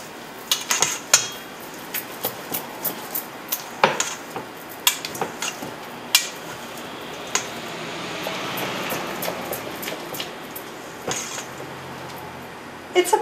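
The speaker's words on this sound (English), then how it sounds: "going to just mix it all together." Flax seeds of several colours get stirred together in a bowl, with a series of sharp clinks and scrapes from the spoon against the bowl's sides, irregular and close, with no talking.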